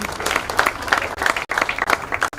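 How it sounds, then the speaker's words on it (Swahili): An audience at an office grand opening claps for a member of parliament, a lively burst of overlapping handclaps with distinct individual smacks and two brief dips before the clapping resumes. "Tupigie makofi jamani."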